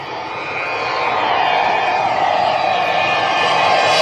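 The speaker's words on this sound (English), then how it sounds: "nearly hit by the plane as it blew past them" A fixed-wing airplane roars at full power on a failed takeoff run, overrunning the runway near onlookers; a loud, steady broadband engine roar swells in the first second and holds close and strong throughout, with a faint crowd murmur beneath.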